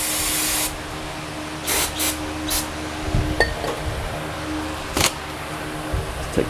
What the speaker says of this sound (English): I'm gonna just kind of douse everything here with a bit of brake clean